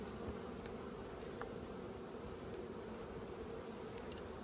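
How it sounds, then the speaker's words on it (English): Honey bees hum steadily around an open hive box, a continuous close swarm drone with no pauses and no voices. "there's enough bees in this box to not worry about it"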